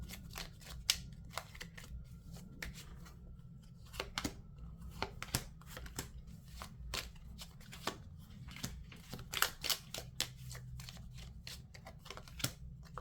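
Tarot cards being shuffled by hand, a run of quick, crisp riffling and slapping bursts at an uneven rhythm, close and fairly quiet over a low background hum, with no talking.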